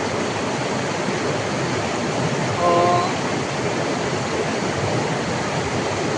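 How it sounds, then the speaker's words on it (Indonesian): Rocky river running muddy after overnight rain, a steady broad rush of water with a brief faint tonal sound partway through. "Sekarang sampai di jalur ini masuk sungai."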